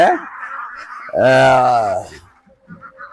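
Indian Runner and Khaki Campbell ducks at a government duck sales centre give a loud, drawn-out honking call lasting about a second, with softer quacks and flock murmurs before and after.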